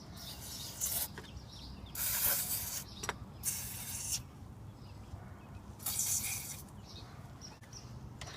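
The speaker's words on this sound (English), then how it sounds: "I'm going to go ahead and spray PB Blaster on the rest of them" A can of PB Blaster penetrating oil is sprayed onto the cylinder head bolts of a 300ZX engine in several short, close hissing bursts separated by quiet pauses.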